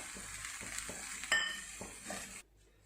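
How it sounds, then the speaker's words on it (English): A spoon stirs coriander leaves into taro root curry (arbi ki sabzi) in a pan, making repeated close scraping strokes over a soft sizzle before the sound cuts off near the end. "Now I'm going to add the coriander leaves and mix it and serve in a bowl."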